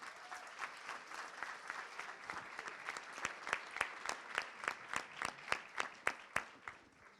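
Audience applause fills a hall at a congress, a dense steady clapping that grows into sharper, more distinct rhythmic claps toward the end.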